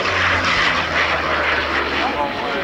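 Military aircraft making a fast low pass at the 1995 Air Force Days air show at Volkel airbase, a loud continuous engine roar with broad rushing noise held steady throughout.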